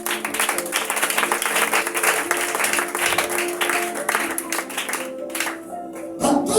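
A church congregation applauding and cheering in praise, a dense, loud, sustained wash of clapping that thins out and fades near the end.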